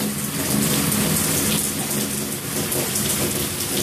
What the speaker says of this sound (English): there is water descending into the tub.